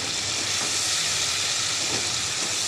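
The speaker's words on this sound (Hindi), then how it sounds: "टमाटर जो हैं वो प्याज के साथ अच्छी तरह से फ्राई हो गए हैं" Tomatoes and onions fry together in a pan, giving a continuous, dense sizzling hiss that stays steady and close throughout.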